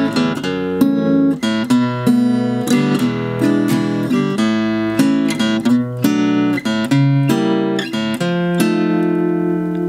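Jazzy acoustic guitar playing line four of a song, setting up a key change: a steady run of strummed chords and picked notes, close and clear, with no talking.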